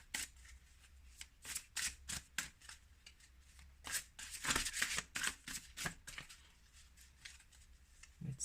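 Tarot cards are shuffled by hand in quiet, repeated crisp riffles and flutters, some bursts longer and denser than others, heard close with brief pauses between them.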